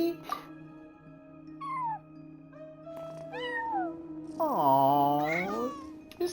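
A cat in the Genshin Impact video game meows several times, with the last call long and drawn out, over sustained tonal game music.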